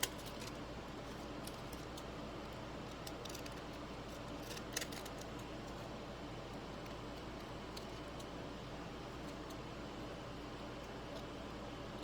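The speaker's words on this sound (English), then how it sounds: "So I'm gonna just kind of cut that off before I glue it down this time" Scissors snip through paper for a craft project, a series of faint crisp cuts scattered over a steady background hiss.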